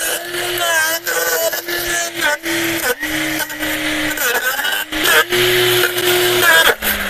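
A GTM BC56/1800BL 56-volt cordless brush cutter runs at third speed, cutting thick woody growth such as a 3 cm cherry sapling. Its high motor whine holds close and loud, then dips briefly each time the line bites.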